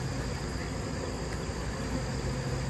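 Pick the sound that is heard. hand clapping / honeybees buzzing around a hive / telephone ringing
honeybees buzzing around a hive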